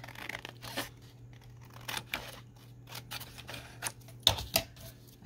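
Scissors trimming the edge of fabric while sewing triple pockets, a handful of separate crisp snips and rustles, close and fairly quiet, with a steady low hum underneath.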